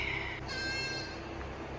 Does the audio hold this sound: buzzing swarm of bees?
no